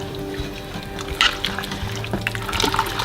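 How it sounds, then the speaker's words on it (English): Cornstarch slurry poured into a pot of potato soup and quickly stirred, giving soft liquid splashes and a brief burst of spoon scraping over a low kitchen hum. "And then I'm just gonna pour it in and quickly give it a stir."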